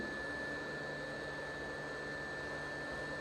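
Heat gun or hot-air blower running steadily while warming a Samsung S21 screen to free its rubber gasket, a loud continuous whooshing roar with a faint high whine, close and unbroken, no talking.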